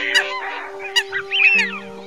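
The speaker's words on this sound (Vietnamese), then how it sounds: "bản tiếng chim này" Recorded calls of coot, teal and wild duck play over a steady electronic hum, with repeated nasal honks and quacking bursts coming in short, irregular groups.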